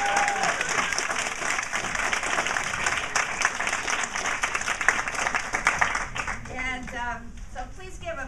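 An audience claps for a guest speaker introduced at a talk on a social justice issue, dense sustained applause for about six seconds, then thinning into scattered claps as a voice begins speaking over it.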